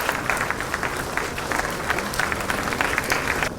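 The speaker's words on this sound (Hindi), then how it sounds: "तालियां लगातार हो, जोश से भरेंगी।" Audience at a government appointment-letter ceremony clapping continuously, a close, busy patter of many hands with small peaks, lasting only a few seconds.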